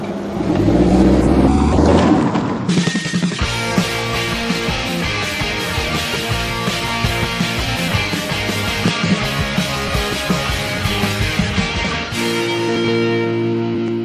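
A 2016 Honda Civic drives with a steady, loud engine and road roar, rising sharply after a brief lull near the start and holding on continuously, with no talk over it.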